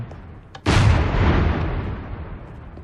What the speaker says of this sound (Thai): ปืนหนึ่งยิงปืนสองยิงปืนสามยิงปืนสี่ยิง